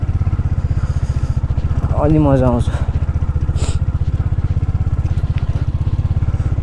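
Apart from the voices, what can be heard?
motorcycle riding on rough road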